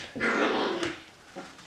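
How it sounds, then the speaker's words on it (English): Great Pyrenees puppies scuffling, with a close burst of whimpering growls and yips that fades into a short grumble, and no talking. "Vicious dog fights, but I hear you're not supposed to break them up."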